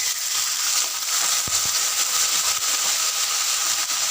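A ground ginger and green chilli paste with panch phoron and a splash of water frying in oil, giving a loud, dense, continuous sizzle with a brief scrape of stirring, close and without talk.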